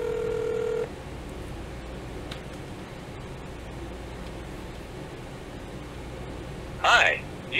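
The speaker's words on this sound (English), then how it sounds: "let's call consumer service for Nintendo Power. So 1-800-255-3700" Touch-tone keypad dialing a Nintendo Power consumer service number: a long steady tone at first, then a quiet line hiss, and a short burst of another tone near the end.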